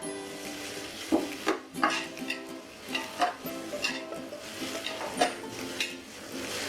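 Garlic sautéing in a pan, a soft sizzle broken up by repeated scrapes and clinks of a spatula or spoon against the metal, the stirring strokes coming in an uneven rhythm.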